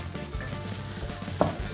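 Pancakes with fish filling and sour cream sauce heat in a cast-iron skillet, sizzling and crackling steadily up close with a few soft pops.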